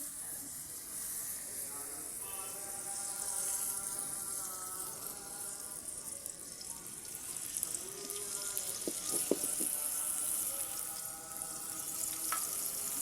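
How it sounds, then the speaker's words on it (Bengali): Onion and garlic frying in oil in a pan on a wood-fired stove, giving a steady, soft sizzling hiss throughout, with faint background talk and a few brief tonal sounds mixed in. "আমি এখানে পেঁয়াজ এবং রসুনটাকে ভেজে নেব।"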